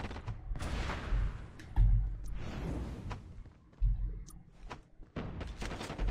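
Gunfire from a Call of Duty Mobile tournament match, a steady stream of shots and bursts with a few heavier booming hits, mid-level and continuous with no talk over it.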